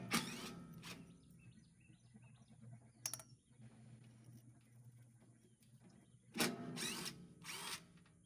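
A power tool, likely an impact driver, whirs in short bursts while nuts and bolts are removed from underneath a Land Pride RTR2072 tiller. Two quick bursts open the passage, a brief one follows mid-way, and a longer burst comes near the end, all close and fairly quiet.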